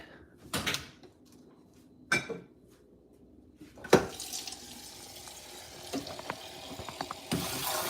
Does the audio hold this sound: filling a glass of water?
yes